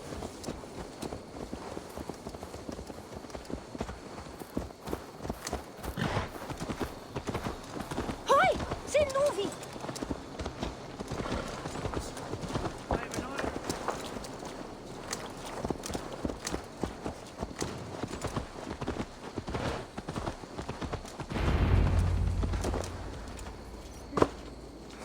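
Horse hooves clip-clop in the Assassin's Creed Valhalla video game, a steady trotting rhythm running under game dialogue and ambient noise, with a heavier burst near the end.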